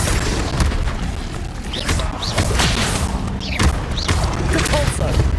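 Spell blasts from the Confringo fire curse in the Hogwarts Legacy video game, repeated booming bursts and thuds in dense combat, with shouted voices over the clamor.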